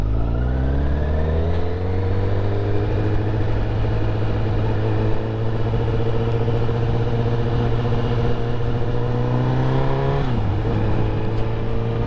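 A 2023 Honda CBR 1000RR Fireblade engine pulls away under very light throttle, giving a steady loud drone whose pitch climbs gradually, then dips briefly and recovers near the end. No voices are heard.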